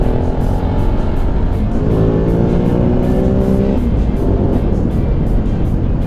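An SWM Superdual T 600 motorcycle engine is pulled hard past 6,000 rpm on an open road. A loud, continuous rising engine note blends with rushing wind, and there is no talk.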